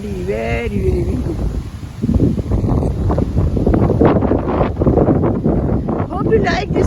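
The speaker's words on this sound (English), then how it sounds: "Very windy, very windy." Strong wind gusts buffet the microphone by a Chicago lakeside, a steady loud roar with rustling throughout, while a voice speaks over it near the start.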